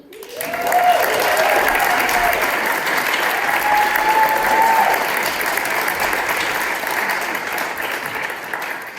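A theater audience at a Catalyst Theater Company cabaret breaks into full, sustained applause that holds steady for about nine seconds, dense and close, with a faint vocal tone drifting through it.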